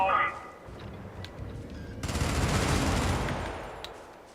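Liberator rifle fire in a video game: a sustained, loud burst of rapid automatic shots kicks in midway and holds steady to the end over a busy game soundscape.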